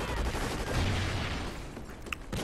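Rapid bursts of automatic gunfire crackle through a Call of Duty: Ghosts multiplayer match, a dense fusillade with a few sharper single shots near the end.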